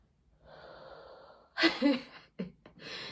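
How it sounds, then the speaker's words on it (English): A pregnant woman, winded after a walk around a building, breathes heavily with a steady rasping exhale followed by several loud, close gasps and panting breaths. "I'm out of breath"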